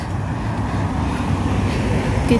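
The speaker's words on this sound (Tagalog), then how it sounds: "dito na tayo sa bus stop." Steady road traffic rumbles at a city bus stop, a continuous low hum of passing cars and engines with faint wind, no clear single vehicle standing out.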